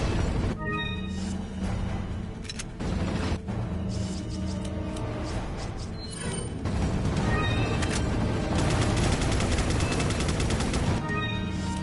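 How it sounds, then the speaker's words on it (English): Rapid gunfire in Resident Evil 4 crackles in dense, overlapping bursts across most of the stretch, loud and continuous with brief lulls, mixed with other game sounds and no talking. "Why are you shooting near me?"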